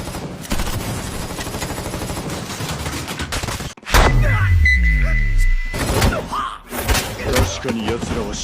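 Two armed anime squads trade gunfire: bursts of rapid shots and heavy, booming impacts, loud and close, with a brief lull before a big blast, while a voice talks over the action.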